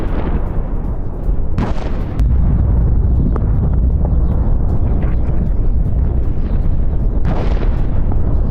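Bombing explosions in Pardis near Tehran: a dense, continuous roar of deep rumbling booms with sharper bursts breaking through, loud and unbroken throughout.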